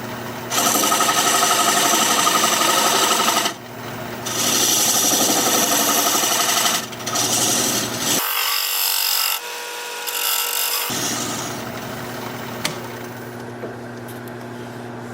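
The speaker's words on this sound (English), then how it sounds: "use my dovetail recess tool to create the dovetail on the side here" Wood lathe spinning a blank while a dovetail recess tool cuts a dovetail into its side, a loud continuous scraping whir that shifts in tone with each pass, briefly lighter mid-way and fading softer toward the end.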